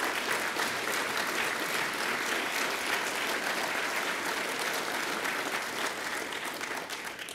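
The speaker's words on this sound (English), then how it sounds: "Give him a round of applause" Continuous hall applause from a conference crowd, thick overlapping clapping that stays at a constant level for over seven seconds.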